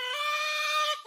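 A brooding turkey hen gives one short, harmonic vocal call lasting about a second, close and fairly loud, ending in a brief rustle.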